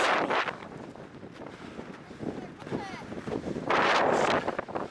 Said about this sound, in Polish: Ale dzisiaj jest taki wiatr